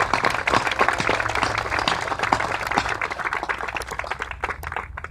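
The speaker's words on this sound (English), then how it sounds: "let's give them all a round of applause" Applause for members of a city board and commission at a riverwalk bridge dedication in Jamestown, New York: a dense, steady patter of many hands clapping for about five seconds, fading slightly toward the end.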